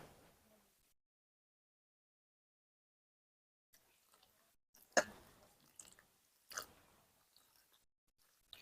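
A hand mixes brinjal cutlet batter with water, with sparse, faint wet squelches and squishes after a long silence, including a couple of sharper slaps.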